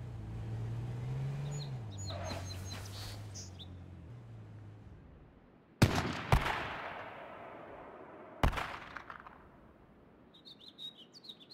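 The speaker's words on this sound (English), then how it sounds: "They're shooting at each other." Two sharp, loud gunshots ring out a few seconds apart in H1Z1 King of the Kill, each with a brief echoing tail, over faint engine hum and chirpy electronic tones.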